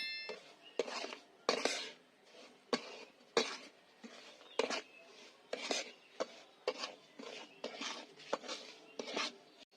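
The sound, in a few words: stirring and frying semolina in ghee in a pan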